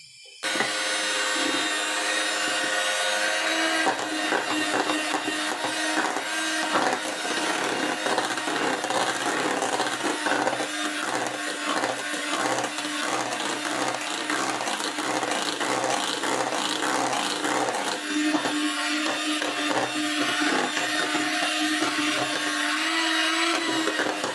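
A steady electric whirring drones continuously from start to finish, loud and close, like a hand mixer beating batter without pause.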